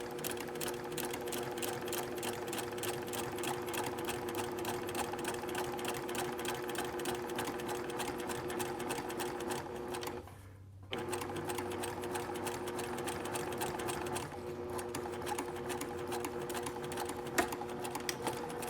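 A sewing machine runs steadily stitching a French bias seam, its rapid even needle rhythm close and continuous, pausing briefly midway before resuming at the same pace.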